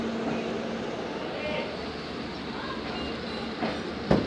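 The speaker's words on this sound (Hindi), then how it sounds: "डाउन में आ रही है 128 डाउन मेहर, जबकि अप में आ रही है 129 अबथल एक्सप्रेस।" Passenger trains roll into the platform at Kot Addu Junction, a steady rumble and rattle of railcars filling the whole span, with a sharp metallic clank near the end and a voice speaking faintly in the mix.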